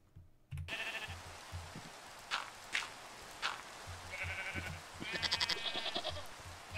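Sheep bleating in the TerraFirmaCraft video game, several short bleats rising over a steady hiss with soft low thumps underneath, moderately faint and without talking.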